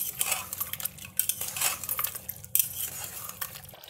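Mutton with yogurt and green chillies is stirred in a pot over a high flame. A spoon clinks and scrapes against the metal in quick irregular strokes, fairly faint, with no voices.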